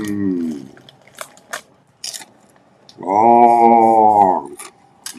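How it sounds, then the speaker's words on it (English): Potato chips crunch in a few sharp, close bites with quiet gaps between them, and a hummed voice sound sits in the middle. "eating chips and drinking a soda."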